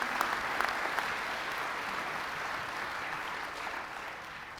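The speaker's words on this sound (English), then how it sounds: "Give them a big round of applause." An audience applauds at an annual meeting and member celebration, a dense, steady wash of many hands clapping that carries evenly for several seconds at moderate level, with no voices on top.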